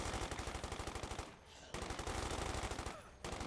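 Light machine gun fire in Company of Heroes 2 rattles in two rapid sustained bursts split by a short pause, moderately loud and close, with no talk over it.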